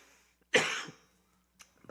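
One sharp, close cough bursts out from a man in a church service sermon, followed by a brief pause and a faint throat sound.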